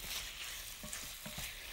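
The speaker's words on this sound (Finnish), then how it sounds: "Ja sitten hän lisäsi kanasuikaleet sinne. You put the chicken also. Yes, I put the chicken. Now I'll just saute it for some time." Chicken strips with garlic sauté in a pan on low heat, giving a faint steady sizzle with a few soft stirring scrapes and clicks, no voices.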